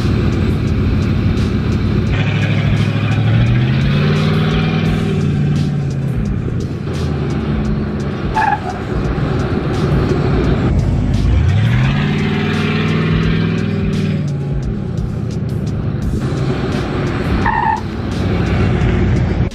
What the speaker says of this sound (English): this one's very slick and the tires are squealing a lot. They're making a lot of noise